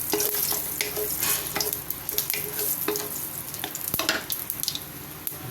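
Green chillies fry in hot oil in a pan, giving a close, steady crackling sizzle with scattered sharp pops and light stirring sounds and no voices.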